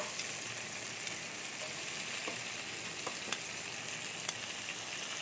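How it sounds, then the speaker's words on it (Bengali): Long beans fry in hot oil in a village kitchen, a steady, close, bright sizzle with occasional pops and faint stirring clicks. "তেলটা আমার একটু গরম হয়ে গেছে, আমি এবার বরবটিগুলো দিয়ে দিচ্ছি। আমি বরবটিগুলো আমি একটু ভেজে নেব।"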